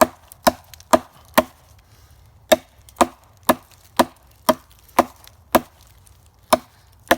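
Sharp, distinct chops from a Tops D.A.R.T. knife biting into wood, about a dozen hard strikes in an uneven but steady rhythm, close and loud against a quiet background.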